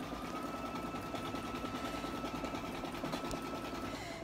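Embroidery machine stitching small lettering, a steady, fast mechanical whirring and rhythmic needle chatter that runs throughout at moderate volume, with no talking.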